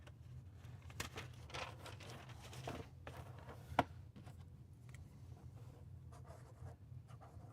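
A pen scratches out a note on a piece of paper in short, faint strokes over a low steady hum, with one sharp tap partway through.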